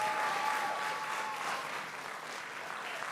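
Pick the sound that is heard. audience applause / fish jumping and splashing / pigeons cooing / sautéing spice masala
audience applause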